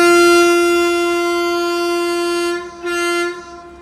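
A Nagercoil–Kollam passenger train departing Parassala station sounds its horn, a loud, close, sustained tone that briefly dips before resuming and then cuts off.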